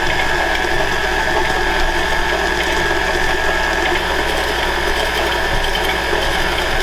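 Electric mixer creaming white and brown sugar for cookie dough, a loud continuous mechanical whir and grinding hum running steadily without pause throughout.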